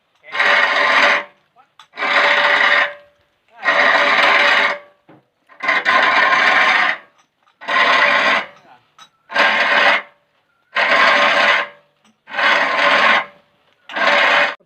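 Repeated rasping bursts of drilling a hole into a bamboo rocket tube, about nine roughly one-second passes with short pauses between, close and fairly loud.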